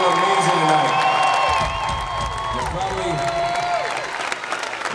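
A concert crowd at an outdoor spring music festival applauding and cheering, with whoops and shouts over a dense layer of clapping, while sustained tones and a voice ring out above it.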